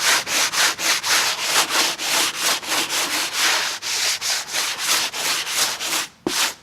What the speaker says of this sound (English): let's do a very light sanding just to knock out all these high spots